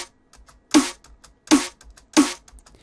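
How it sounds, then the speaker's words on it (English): Three sharp snare drum hits in an Ableton-built snare, evenly spaced and crisp, each with a short bright ring, against near silence. "So now the main snare sounds like this."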